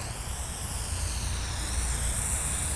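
Aerosol spray can misting waterproofing spray onto a small two-person tent panel, a steady close hiss held without a break for about three seconds, with no talking.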